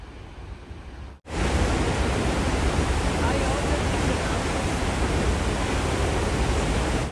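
Niagara Falls roars as a powerful, broad rush of water, loud and unbroken at close range, swelling in abruptly after a quieter opening second and holding steady to the end.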